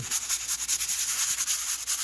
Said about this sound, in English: When I said very light sanding, I meant very light